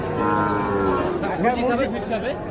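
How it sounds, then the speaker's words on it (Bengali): Sahiwal Sindhi heifers at a busy cattle market in Ambari, Parbatipur, Dinajpur, with a loud nearby moo swelling and wavering over a crowd's constant chatter. "আমবাড়ি হাটে রয়েছি আমরা, আর যেখানে শাহিওয়াল সিন্ধি জাতের বকনা গরুগুলো কেনাবেচা চলছে"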